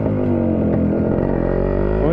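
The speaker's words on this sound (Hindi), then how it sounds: "RX 100 की रो साउंड सबको पसंद होती है" A Yamaha RX100 motorcycle engine runs raw and loud close by, a continuous rough throbbing roar that swells as it revs up toward the end.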